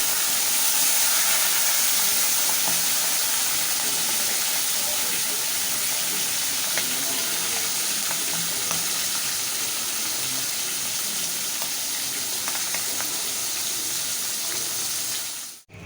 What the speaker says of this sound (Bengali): আমি প্রথমে মাছগুলো ভেজে নিচ্ছি